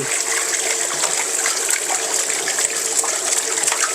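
Running water rinses an iron frying pan, a steady, close, continuous splashing gush with no voices over it.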